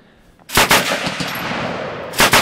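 A 76mm Whitworth cannon fires outdoors, a single loud, sharp blast followed by a rolling, lingering rumble and a second burst of noise near the end.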